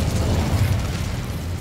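A fire spell cast in Hogwarts Legacy erupts as a single low, rumbling whoosh of flame, a dense burst that rolls steadily through the moment without pause.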